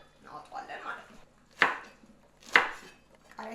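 Knife chopping chili peppers on a cutting board while cooking Ethiopian holiday boiled beef ribs, with butter being added; two sharp, loud chops about a second apart over faint background murmur.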